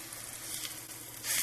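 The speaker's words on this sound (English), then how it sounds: "Checking all the sides to make sure I have everything pretty evenly seared." A pork ribeye roast sears in a hot skillet, giving a steady close sizzle and crackle that swells louder near the end as the meat is turned.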